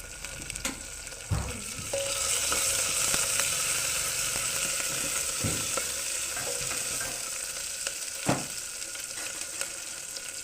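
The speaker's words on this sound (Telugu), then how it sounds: "నెక్స్ట్ కరివేపాకు వేసుకోవాలి." Curry leaves fry in hot oil in a pan for methi rice, giving a steady, moderately quiet sizzle with occasional stirring scrapes and clinks.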